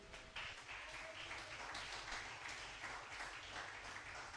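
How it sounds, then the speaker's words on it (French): A church congregation applauds steadily in acclamation of the word of God, a continuous, even wash of many hands clapping at a moderate distance with no voices standing out. "On peut acclamer la parole de Dieu."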